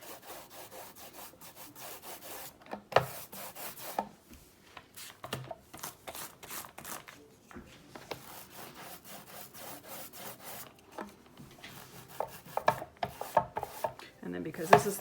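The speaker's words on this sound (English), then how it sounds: "I'm just going to go over the entire thing so I have a smooth surface without any roller lines" A paint roller gives a final smoothing coat on a wooden panel, making a close, sticky rolling rasp in repeated back-and-forth strokes that grow louder and choppier toward the end, with no voices.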